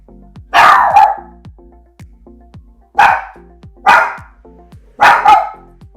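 Dogs in a home kitchen giving four loud, separate barks spaced about a second apart, close to the microphone, with quiet clatter between them.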